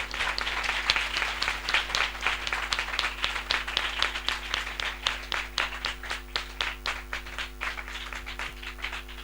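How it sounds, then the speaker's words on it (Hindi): An assembly audience at a spiritual gathering gives a long round of loud applause that fills the room with dense, steady clapping. It fades slightly toward the end, with a low hum underneath. "हम जोरदार तालियों से उनका स्वागत करें"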